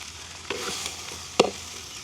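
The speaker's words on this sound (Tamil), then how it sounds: "பால் தூள் புளி எல்லாத்தையும் ரெடியாகவே சேர்த்து போடுவோம் இப்படி ஒருக்கா பிரட்டி விட்டுட்டு" Spices with milk powder and tamarind for a jackfruit curry being stirred in a frying pan in a village kitchen, a faint steady sizzle broken by two brief scraping stirs, the second one louder.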